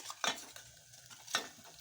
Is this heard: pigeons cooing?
no